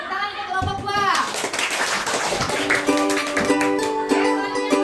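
A classroom of children claps for a group of pupils, a burst of scattered hand claps mixed with kids' voices, loud and close, with chatter continuing throughout.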